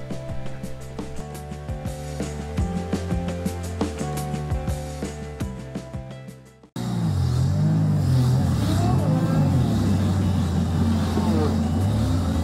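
A car driving across Malta toward the Dingli Cliffs hums steadily with engine and road noise, a rhythmic tapping over it at first, then a louder, rougher cabin drone with shifting engine pitch.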